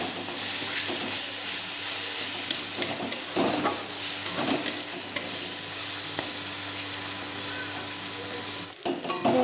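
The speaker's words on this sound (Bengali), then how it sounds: "এখান থেকে হালকা আঁচে কষাতে হয় যাতে পেঁয়াজটা ভালো করে ভাজা হয়, অথচ পেঁয়াজটা পুড়ে না যায়" Onions fry over a medium flame with a constant close sizzle, broken by frequent stirring scrapes and light knocks of the utensil against the pan, and no one speaks.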